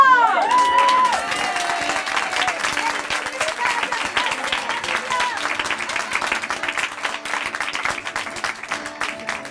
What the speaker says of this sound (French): Allez, on applaudit le roi!